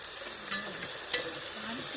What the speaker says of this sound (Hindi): हमने पनीर डाल दिया।